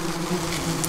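Yellow jacket wasps buzz steadily at close range, a continuous droning hum with no voices over it.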